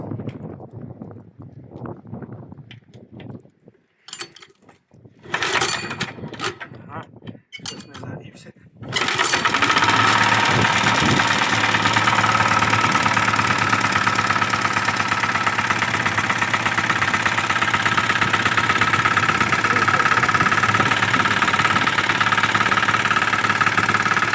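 A diesel walk-behind tractor (motoblock) is pulled to start after some talk and handling noises, catching at once and settling into a loud, steady, close chugging idle.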